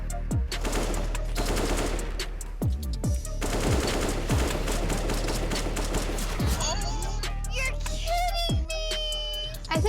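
AK-47 fire in Counter-Strike, loud rapid automatic bursts with sharp repeated shots in quick sprays, pausing and resuming, with game sounds trailing after.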